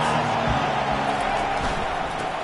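A football stadium crowd makes a steady, dense roar that stays loud throughout and holds no clear peaks or cheers.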